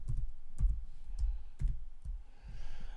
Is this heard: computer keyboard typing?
yes